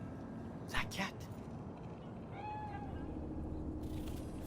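In Cyberpunk 2077, a cat gives a single soft, rising and falling meow, faint and brief under steady city background noise, just after a short burst of speech.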